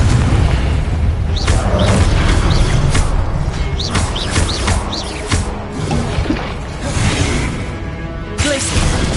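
Confringo blasting spells go off repeatedly during combat in the video game Hogwarts Legacy, loud booming bursts and whooshes layered over a dense, continuous battle din with sharp pops and swishes throughout.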